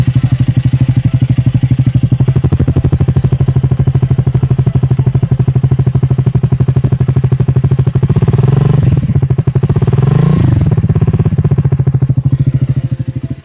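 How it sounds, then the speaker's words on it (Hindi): A Triumph Speed 400 motorcycle exhaust idles with a loud, close, rapid thumping pulse, and two quick throttle blips rise and fall in the second half. "तो ये आपका जो है प्यारा सा एग्जॉस्ट साउंड था स्पीड 400 का।"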